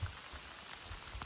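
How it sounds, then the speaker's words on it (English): Rain mixed with sleet falls steadily on a hiking route along the Appalachian Trail, a soft continuous patter with a few louder drops landing close by and no talking. "It is raining and or sleeting."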